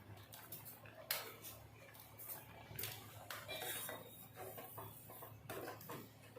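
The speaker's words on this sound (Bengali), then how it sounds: "চিনিটা ভালো করে মিশে যাক।" A spoon stirs sugar into a sweet temple offering (bhog) cooking in a pot on a gas stove, giving faint, scattered clinks and scrapes against the metal over a low, steady background hum.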